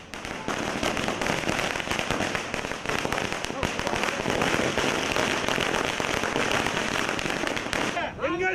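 Dense, continuous crackle of firecrackers bursting at an AIADMK party celebration, rapid overlapping pops filling the scene loudly for several seconds, with voices mixed in beneath.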